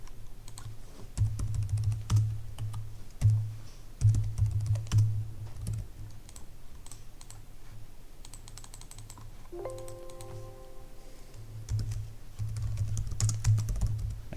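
Keys clatter on a computer keyboard in irregular bursts of quick taps, close by, with brief pauses and a short tonal beep partway through.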